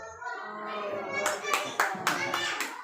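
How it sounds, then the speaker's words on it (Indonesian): A group applauds a coach after a coaching session, with a voice talking first and then a run of clapping bursts rising and falling, close and fairly loud. "Kita berikan aplaus dulu nih buat coach dengan coachingnya luar biasa"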